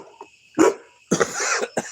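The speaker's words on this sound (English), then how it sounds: "What are you barking at?" A dog named Cole gives a few short, sharp barks in quick bursts, close and fairly loud, with quiet gaps between them.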